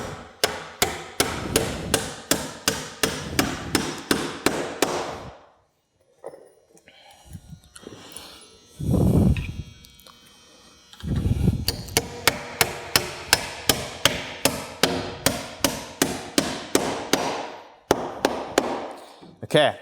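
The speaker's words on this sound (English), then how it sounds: "install these 4 nails" Close, loud hammer blows drive nails into a metal joist hanger on deck framing, in rapid even bursts that stop for a short pause with a few shuffling sounds, then start again in steady runs.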